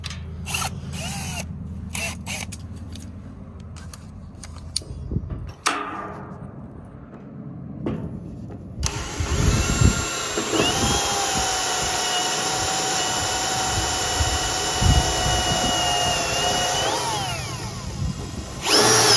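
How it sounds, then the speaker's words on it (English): A power drill whines loudly and steadily drilling holes in metal on a tiny house trailer axle for several seconds, preceded by clanks and handling noises of tools. "my dad is prepping those holes and drilling those holes"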